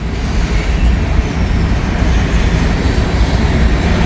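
Norfolk Southern train rolling past a tower on nearby track, a loud, steady rumble of railcars with wheel noise, close by and alone without talk.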